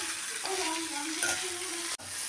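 Bitter gourd pieces tossed with salt in a hot pan, giving a steady broadband sizzle with soft scraping of stirring through most of the stretch, then a brief gap before the frying resumes.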